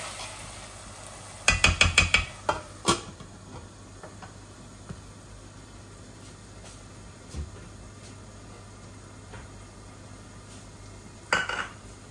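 A spatula stirs chicken in a pan for a dry bhuna curry, with a quick burst of metal scraping and clanks near the start, quiet sizzle between strokes, and another short clatter near the end.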